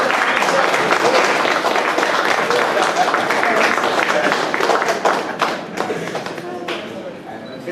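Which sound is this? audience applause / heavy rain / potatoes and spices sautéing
audience applause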